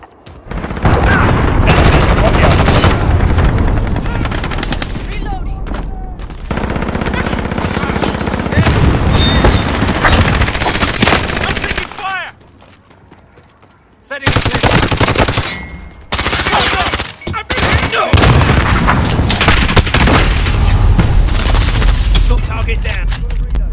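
Intense gunfire and heavy booming blasts from a cruise missile strike in Call of Duty: Modern Warfare, with sustained loud bursts broken by a brief quiet gap and game voice callouts between them.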